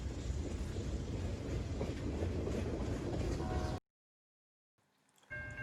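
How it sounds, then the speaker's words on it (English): A freight train carrying tractors on flatbeds rumbles past with rhythmic clattering wheels, loud and close, then cuts out abruptly before a faint return at the end. "seeing the flatbeds with the tractors up front on this train"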